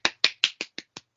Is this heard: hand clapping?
yes